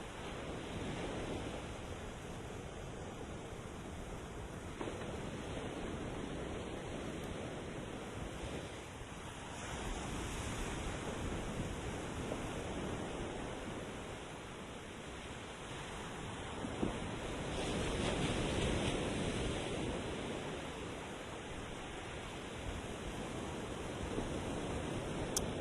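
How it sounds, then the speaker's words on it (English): Ocean waves break on a distant breakwater, producing a continuous broadband surf wash that swells and recedes in slow surges, mixed with wind buffeting the microphone and no voices. "waves that I see breaking way down there, probably 5 miles away. See the splashes on the breakwater there."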